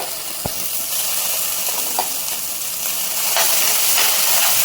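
Ground masala paste frying in butter in a pan for paneer butter masala curry, giving a steady, fairly loud sizzling hiss throughout with a few faint clicks and a slight swell near the end.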